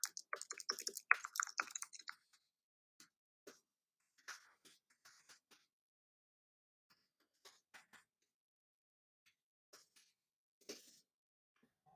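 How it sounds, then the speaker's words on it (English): Computer keyboard typing, a quick dense burst of key clicks at first, then scattered single taps and short clusters, close and quiet against silence. "I will simply type in, I'll simply paste that in."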